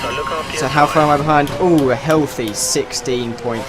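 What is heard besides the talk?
No everyday noises stand out.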